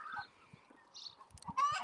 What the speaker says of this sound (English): think we have like 40 chickens out here.